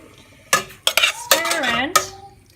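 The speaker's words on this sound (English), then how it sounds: "Now my third step is I'm going to add in the beef," Beef steak tipped into a pot of softened onion and stirred, giving a run of clattering utensil scrapes and knocks against the pot, fairly close and loud with no talk.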